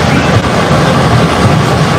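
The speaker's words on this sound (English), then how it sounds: "Yeah, you're finally on the choo-choo train." A small ride-on train rumbles along in a steady, loud, continuous clatter heard from on board, with no clear pauses.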